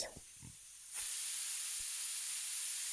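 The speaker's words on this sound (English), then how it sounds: "after 15 minutes of cooking, the first steam is going to go off like this" A pressure cooker vents its first burst of steam after about 15 minutes of cooking on the stove: quiet room sounds, then a sudden loud, steady hiss that starts abruptly and keeps roaring without a break.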